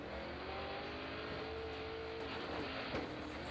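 A drift car running completely sideways at speed on Falcon 615K street tires in Formula Drift competition, its engine holding a steady, strained high-revving drone with a faint tire hiss, heard from a distance and fairly subdued.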